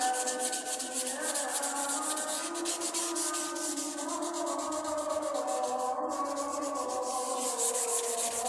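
Dry, rhythmic scraping of 36-grit sandpaper across car body filler, steady continuous strokes, close and fairly loud, with no talking.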